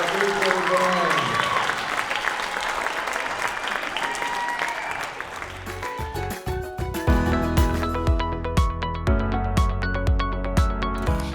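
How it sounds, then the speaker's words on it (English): An audience applauds for an 8th grade school band, dense clapping with a voice speaking over it, then giving way to loud rhythmic music with a strong beat for the second half. "give another round of applause for our 8th grade band."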